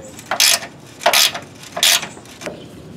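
A ratchet tightens bolts on a Pontiac GTO/LeMans front spring mount, giving four short bursts of rapid clicking, close and fairly loud, with brief pauses between strokes.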